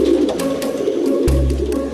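Pigeons coo in a low, rolling, continuous murmur, loud and close, with no voices.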